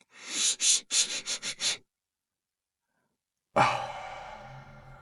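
Repeated breathing from a Huberman breathing technique demonstration: six quick, close sniffing inhales in a rhythmic series, a pause of silence, then one long, loud exhale that slowly fades.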